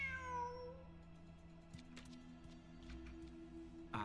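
A single drawn-out cat meow opens the scene, close and clear in a video game setting (Genshin Impact or Wuthering Waves), then fades into quiet background ambience with faint ticks.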